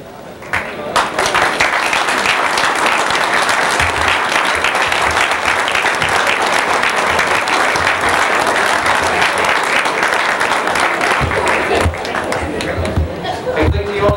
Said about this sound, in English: Will those elected officials please stand up and be recognized so that we can give you all a round of applause?